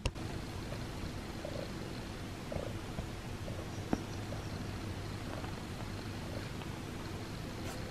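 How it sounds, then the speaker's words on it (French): A cat's soft, steady purring rumbles continuously close by, low and quiet, with a faint click or two and no voices. "Vous entendez comme elle ronronne?"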